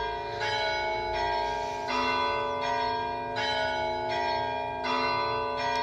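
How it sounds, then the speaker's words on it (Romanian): Church bells in Greece ring in a steady, repeating pattern of clear, resonant tones, moderately loud with no talking. "Nu e alarmă. Clopotele."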